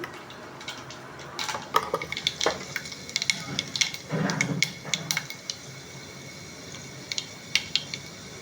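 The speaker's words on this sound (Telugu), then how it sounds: "ఆవాలు వేస్తున్నాను చూసారా ఇది ఈ విధంగా అయింది" Mustard seeds spluttering and popping in hot oil while tempering a peanut chutney, a close run of sharp irregular crackles and pops with a brief sizzling burst midway.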